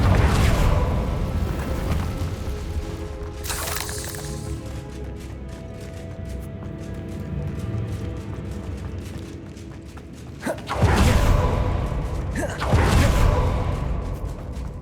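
Confringo fire spells from Hogwarts Legacy burst in an abandoned underground chamber: a sharp blast early on, then two more heavy explosive bursts near the end, over a low rumbling ambience.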